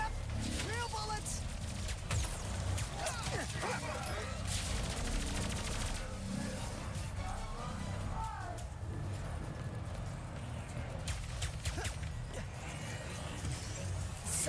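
Gunfire in the video game Ratchet and Clank: Rift Apart during a parade ambush, a dense continuous rattle of shots layered over game music and crowd noise, with voices talking throughout.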